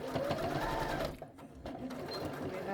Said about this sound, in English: Reverse stitch.